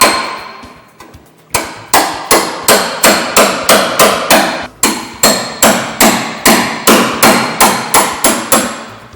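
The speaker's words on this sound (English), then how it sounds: "Joe's running that chisel right down between two pieces of metal" Loud, rhythmic hammer blows strike a chisel driven between spot-welded metal panels on an old British car, about two sharp metallic clangs per second after a brief pause near the start, with no talk.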